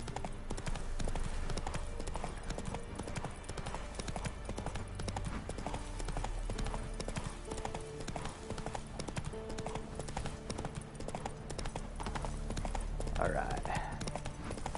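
Rapid rhythmic clip-clop of horse hooves during riding in The Witcher 3: Wild Hunt, continuous and close, with game sounds layered underneath.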